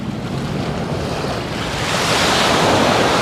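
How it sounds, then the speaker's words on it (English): Surf washes steadily onto a beach in Bali, a broad continuous roar of breaking waves with wind buffeting the microphone, swelling slightly louder toward the end, with no voices. "And this is the beach, which on the GoPro probably looks beautiful"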